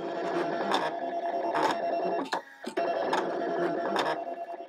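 An electronic cutting machine slices card for a quilt-themed greeting card, making rhythmic whirring motor bursts under a steady hum, with a short pause partway through before the pattern resumes.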